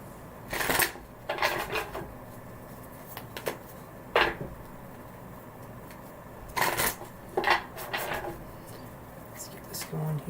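Crisp riffle shuffles of a tarot card deck come in several short bursts, close and clear, separated by quiet pauses.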